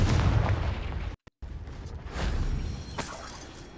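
Confringo fire spell explosion in the video game Hogwarts Legacy: a loud burst with crackling debris, a brief dropout, then rumbling blasts and sharp impacts trailing off.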